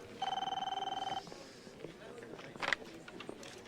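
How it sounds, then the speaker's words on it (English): A telephone bell rings in one rapid, pulsing burst lasting about a second, then gives way to quieter shuffling and clatter nearby. "Then the phone rings."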